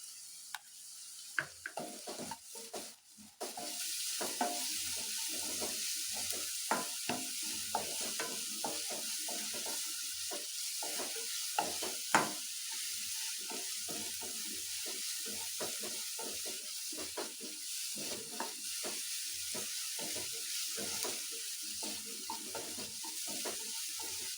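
Egg sizzles and fries in a hot pan for egg paratha, a steady bright crackle running throughout with frequent scraping stirs and clinks of a spatula, fairly close and alone without talk.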